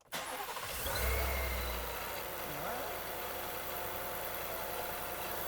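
A Whipple supercharged Ford F-150 cranks and fires with a loud burst, swells into a deep rumbling surge, then settles into a steady, throaty idle close by.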